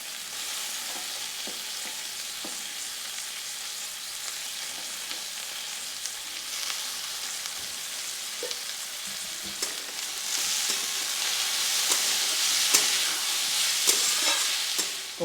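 Chopped potatoes and onion fry in a pan with a continuous close sizzle and occasional stirring clicks. The sizzle grows louder toward the end, and no one speaks.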